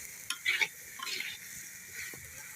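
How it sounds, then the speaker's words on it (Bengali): Cumin seeds fry in hot oil for a spice tempering, a quiet hissing sizzle with a few sharp stirring scrapes and taps near the start, then a softer crackle that fades off. "ফোড়নে দেবো জিরে, দেখো বন্ধুরা ভালোভাবে ভাজা হয়েছে"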